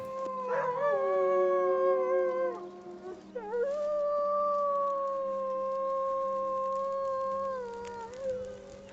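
Several overlapping wolf howls in the NOPE Mode video game rise and waver, with a yipping flourish early on, then settle into long sustained wails before tapering off, loud against a constant low hum.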